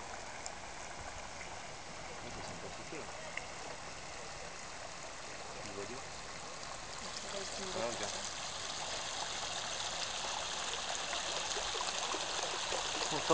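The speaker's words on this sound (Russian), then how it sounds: "Да, и тут зажурчало." Geyser runoff water trickles and gurgles steadily outdoors at Yellowstone, a soft continuous babble that grows slightly louder, with faint voices underneath.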